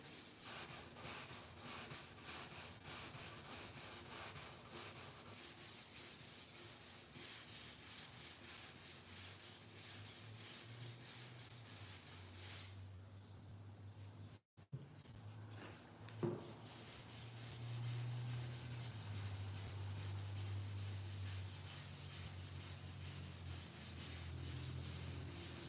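Bondo body filler being sanded with a sanding block, a steady continuous rubbing scrape that runs nearly the whole time, close and fairly loud, with a brief break midway and no talking.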